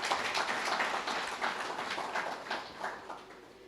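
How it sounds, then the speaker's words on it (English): Conference audience clapping together in a hall, a dense, continuous patter of many hands at moderate level, gradually thinning toward the end. "can we give ourselves a round of applause?"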